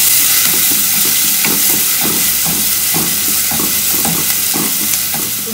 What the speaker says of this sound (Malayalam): എണ്ണ ചൂടായി വരുമ്പോൾ നമുക്ക് അതിലേക്ക് ചതച്ച ഉള്ളിയും വെളുത്തുള്ളിയും ചേർത്ത് കൊടുക്കാം നന്നായിട്ട് വഴറ്റി കൊടുക്കാം